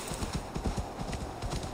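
Horse hooves in the video game Assassin's Creed Valhalla, a quick run of rhythmic clip-clop footfalls at a trot, close and moderately loud, with no voice over them.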